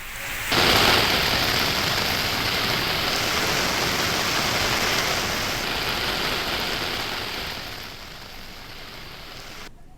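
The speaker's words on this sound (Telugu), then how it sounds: "ఇప్పటికే పలు జిల్లాల్లో భారీ వర్షాలు కురుస్తున్నాయి" Heavy rain pours down steadily and loudly, a dense continuous hiss that starts abruptly and eases slightly toward the end, with no voices.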